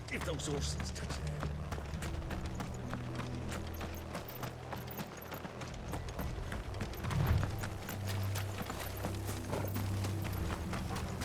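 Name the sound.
horses galloping, hooves clip-clopping in Final Fantasy XVI video game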